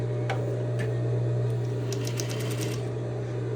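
A sewing machine stitches right along a fabric edge with the presser foot down, running steadily and close up with a fast, even mechanical whir and faint clicking throughout.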